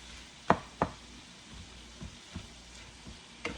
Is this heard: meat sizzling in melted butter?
yes